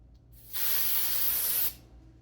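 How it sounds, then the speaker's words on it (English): A single steady hiss of Remington Shaver Saver aerosol lubricant spray lasting about a second, close and bright, stopping abruptly. "We'll spray that on before the shave here."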